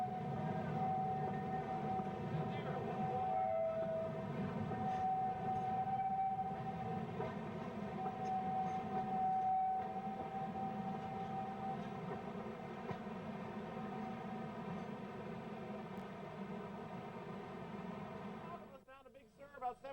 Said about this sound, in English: the train once again reverses itself and continues forward up the grade to the top of Bear Mountain